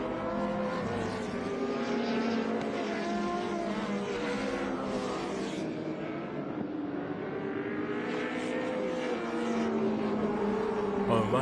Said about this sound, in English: I'm amazed how close the Toyota is keeping these two V8s in front of it.